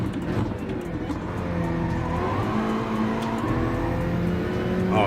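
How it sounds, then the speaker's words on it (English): A race car engine runs hard during a live race, a loud continuous drone that climbs and settles in pitch through the gears, with other cars roaring nearby. "You would have heard the engine going."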